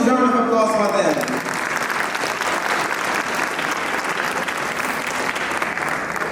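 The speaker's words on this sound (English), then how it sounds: "Can we once again have a huge round of applause for them?" Applause from a school annual day audience after a dance performance, dense clapping that swells in over a brief voice and fading music, then continues steadily.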